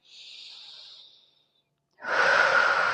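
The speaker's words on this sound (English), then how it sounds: "2 more breaths here" Deep rib-cage breathing exercise: a long, soft breath for about a second, a brief pause, then a louder, fuller breath, close and alone with no talking.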